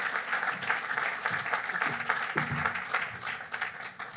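Audience applauding at a cancer center ribbon cutting ceremony as a speaker is welcomed to the podium; steady, dense clapping throughout with a brief murmur of voices underneath.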